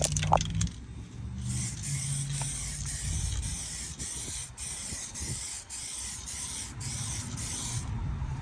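Aerosol paint sprayed as a first coat on a 1999 Jeep Wrangler during rust repair, a near continuous hiss broken by short pauses and a few faint clicks of the nozzle.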